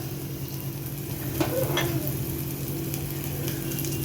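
Garlic and green chillies sauté in hot oil with a steady, faint sizzle and a brief clink of stirring in the middle, close and continuous.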